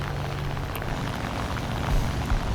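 A P-26 propeller aircraft engine in the War Thunder video game, a steady loud droning hum that holds evenly throughout with no talk.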